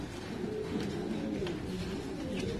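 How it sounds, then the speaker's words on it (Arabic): Pouter pigeons at a bird market in Casablanca's Souk Kriaa give low, throaty cooing amid a steady, busy background hum, with no clear voices. "حمام الزينه، حمام بما يسمى البغويطه، حمام النفاخ."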